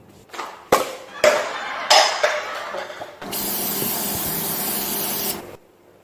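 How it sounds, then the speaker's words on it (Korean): Cooking oil spray is applied to a loaf pan for a milk chocolate pound cake, producing one close, sustained hiss of about two seconds. Talk and some clatter come before it. "여기에 마찬가지로 식용유 스프레이를 해주도록 하겠습니다."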